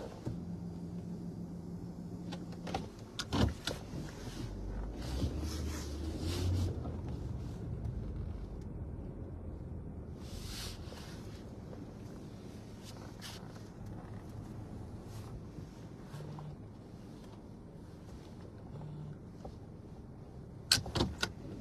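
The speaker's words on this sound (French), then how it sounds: "je vais déplacer la voiture" A car is moved from its parking spot on a sunny day, with low engine and road rumble throughout and several sharp clunks like doors or windows, the loudest near the start and end.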